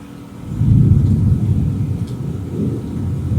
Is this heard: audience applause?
no